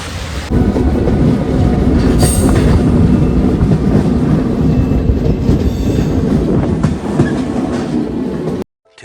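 A loud train rumbles and clatters close by, wheels clicking on the rails with a brief squeal, steady for several seconds before cutting off.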